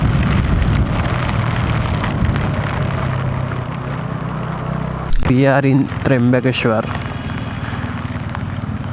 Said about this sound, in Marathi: आणि खूप जास्ती पाऊस आहे